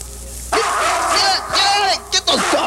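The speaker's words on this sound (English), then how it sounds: "Get those dogs out of here!" Dogs barking and yipping inside a TV studio, several sharp barks mixed with whimpers and excited noise, loud and close, with people shouting over them.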